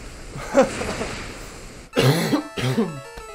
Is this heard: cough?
yes